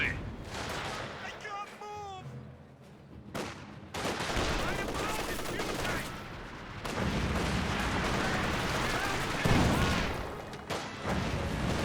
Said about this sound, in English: And we do now have a strafing run.